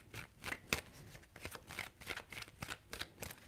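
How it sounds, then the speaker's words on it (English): A deck of tarot cards shuffled up close, a quick run of crisp, papery riffles and flicks in a steady rhythm, quiet and dry. "3 shuffles."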